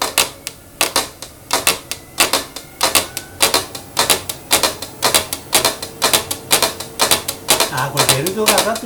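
Abnormal noise from a PR700 printer with its drive belt riding up: a rapid, regular series of loud mechanical clacks, close and continuous, repeating several times per second.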